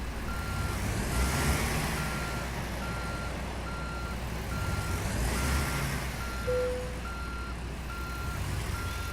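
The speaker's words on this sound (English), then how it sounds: "If you're backing the trailer up in tight spots like I'm right now, it's gonna take a lot of patience" Repeated reversing beeps from a truck backing a trailer in American Truck Simulator, a steady evenly spaced tone pulsing over a continuous engine rumble, fairly loud and with no talking.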